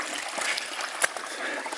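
Rainwater runs down a flooded forest portage trail, making a faint continuous rushing and trickling wash with a small splash partway through.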